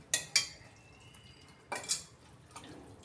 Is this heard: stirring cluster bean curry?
yes